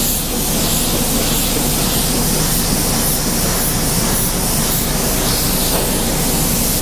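Close, loud, steady hiss of a spray gun laying paint onto a car bumper cover being blended during a refinish, a dense continuous spray with no talk.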